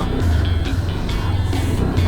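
A Honda NX 200 adventure motorcycle being ridden on a bumpy road, its engine a steady, loud drone close by throughout, with no speech.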